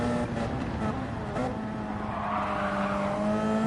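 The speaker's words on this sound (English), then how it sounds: "Again, another 4-wheel slide." A hybrid race car in a four-wheel slide off power on a track near Lago Maggiore, its steady engine whine holding close and loud throughout, with a faint tyre squeal mixed in.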